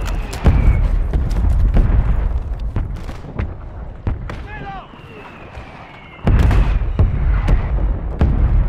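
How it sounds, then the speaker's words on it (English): Mortar strike explosions in Call of Duty, a barrage of sharp booming blasts and heavy thuds rolling one after another, with a loud cluster of impacts near the end, over busy battlefield noise and brief radio chatter. "Requesting fire mission! Target mark! Copy. Mortar strike on the way."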